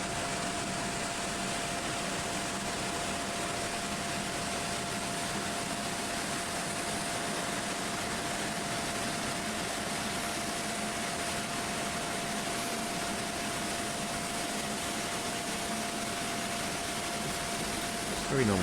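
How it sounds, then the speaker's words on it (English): Airbus A330neo jet engines running in Microsoft Flight Simulator, a steady droning whine with a constant tonal hum, while someone talks over it. "the engine sounds pretty nice"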